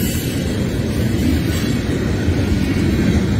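Freight train passing along the Allegheny River, a loud continuous low rumble and rolling roar close by, steady for the whole stretch with no talk.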